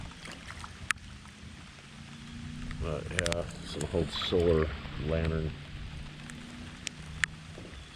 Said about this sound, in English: that's a pretty good rain